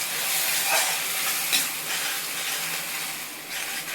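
Ground tomato sautéing in hot oil gives a continuous close sizzle with soft stirring scrapes and small spatters, no voices over it.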